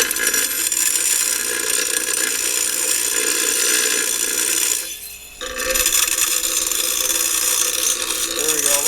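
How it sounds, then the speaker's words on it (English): Bauer 8 inch bench grinder running near 3,600 RPM while its grinding wheel is trued with a dressing tool, giving a harsh continuous high grinding scrape that dips briefly midway and then resumes. "we're going to use these tools to true the grinding wheel to help reduce the vibration"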